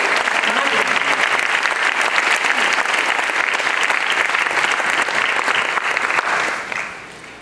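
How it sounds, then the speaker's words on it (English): A large audience at an Indian classical dance arangetram claps in loud, dense, sustained applause that fills the hall, then fades out near the end. "Ladies and gentlemen, a big round of applause."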